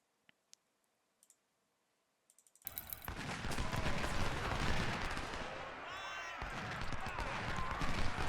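Massed musket volleys crackle in the Ultimate General: Civil War battle at Fredericksburg, starting with a few sparse clicks before a loud, dense, continuous roll of gunfire takes over and keeps going.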